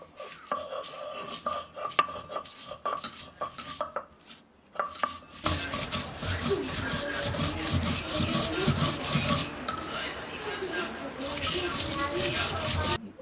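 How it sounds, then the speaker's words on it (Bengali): Green chilies and cumin get ground together on a grinding stone, first in sparse scraping strokes and then in a fast, steady rhythmic rubbing that runs close and loud. "5-6টা মতো কাঁচামরিচ নিয়ে নিয়েছি, সঙ্গে একটু জিরে, এগুলো একসঙ্গে বেটে নেব"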